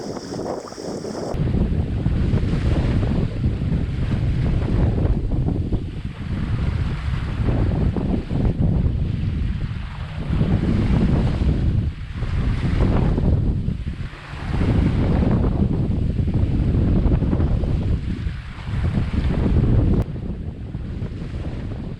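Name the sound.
wind and waves on a sailboat punching through swell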